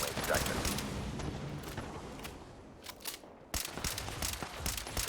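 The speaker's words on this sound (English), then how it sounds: "I was the only one shooting at it." Gunfire in the video game Fallout 76 aimed at a brainwave siphon, heard as dense rapid shots and crackling bursts over a busy battle din, with talk mixed in.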